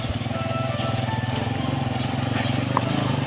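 A motorcycle's engine hums steadily nearby as it approaches, a constant low throbbing that runs under a man's speech the whole time.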